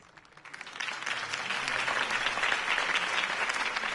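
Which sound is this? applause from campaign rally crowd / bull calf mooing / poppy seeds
applause from campaign rally crowd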